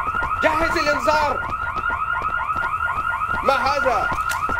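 An alarm siren wails in the video game IGI 2: Covert Strike, a loud repeating rising-and-falling electronic cycle that runs continuously, with game voices talking over it in bursts.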